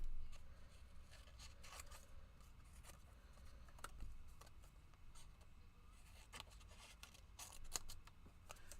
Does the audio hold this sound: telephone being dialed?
no